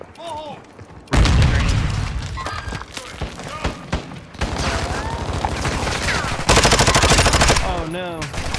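Grenade blast and sustained automatic gunfire in Call of Duty DMZ, loud and close, with heavy bursts and booms filling most of the stretch while players shout over the combat.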